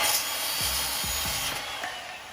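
Handsaw cutting through wood, a few quick rasping strokes in a rough rhythm heard close up, with no speech.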